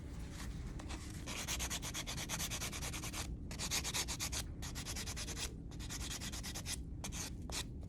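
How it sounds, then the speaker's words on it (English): A nail buffing block rubs across a fingernail in quick, rhythmic back-and-forth strokes. The close, soft scratchy swishes come in short bursts separated by brief pauses, with no voices. "And then I'm going to use my nail buffing block."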